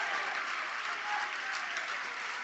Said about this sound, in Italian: Tra lo scoscio d'applausi del palazzetto entra Giacomo Cacace